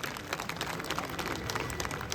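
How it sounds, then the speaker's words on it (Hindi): Crowd at an outdoor political rally in a village park applauding for elders, a dense steady patter of many hands clapping, moderately distant and sustained throughout with no talk over it. "बुजुर्गों के लिए एक बारी तालियां।"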